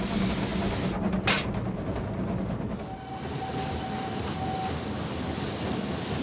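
A train rumbles steadily throughout, with a brief clatter early on and a faint high whine midway, heard from inside or close by.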